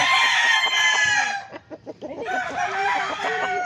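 Chickens and roosters at a chicken farm, a loud close rooster crow followed by a run of short clucks, then more crowing and clucking from several birds.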